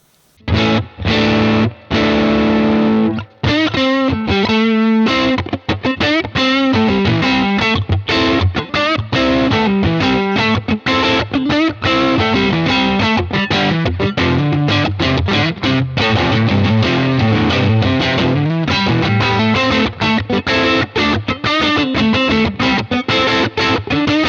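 Electric guitar played through a UAFX Dream '65 Reverb amp pedal with the gain turned up, giving a loud, distorted, sustained tone. Chords and riffs ring out continuously, with a few short breaks near the start.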